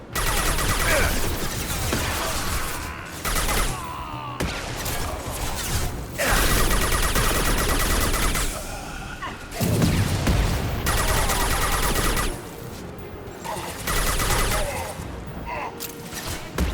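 Mass Effect 2 combat rattles with dense bursts of gunfire, crashes and booms, loud and nearly continuous with only short gaps between volleys.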